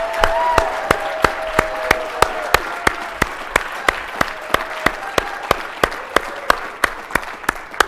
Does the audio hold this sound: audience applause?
yes